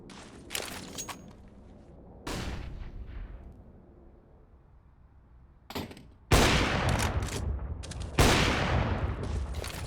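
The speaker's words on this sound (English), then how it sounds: "As the shots are coming in" Gunfire on the Overpass map in Counter-Strike, loud sharp shots in separate bursts with quieter gaps between, the final volleys heavier and closer.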